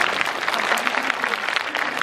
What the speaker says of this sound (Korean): 먼저 축하 박수 한번